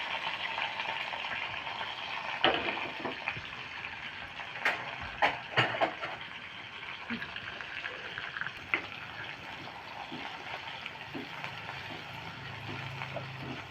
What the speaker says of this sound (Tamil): அடுத்து வெங்காயம் கொஞ்சம் போட்டுக்கணும் நல்லா பொன்னிறமாக வதக்கணும்